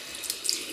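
Tap water runs steadily into a bathroom sink to wet a shaving brush, a soft continuous hiss with small splashy surges, close and alone.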